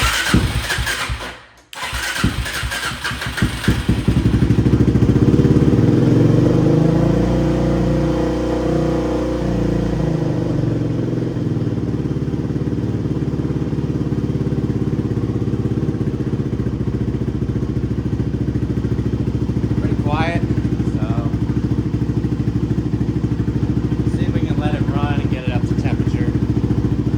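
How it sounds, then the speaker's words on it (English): An LTZ / DVX 400 ATV quad engine cranks briefly, then fires and settles into a loud, steady close-up idle that runs throughout with a slightly uneven beat, while a person talks faintly over it near the end. "The engine sounds all right. Let's get it running."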